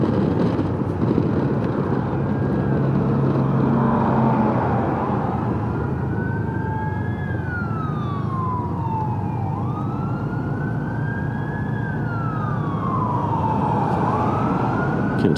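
Emergency vehicle sirens wail and sweep up and down, responding to a structure fire along a road, heard at moderate distance over steady engine and road rumble.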